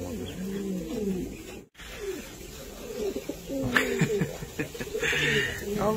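Pigeons cooing in repeated low throaty phrases close by, overlapping one another, with brief rustles and a short gap of silence.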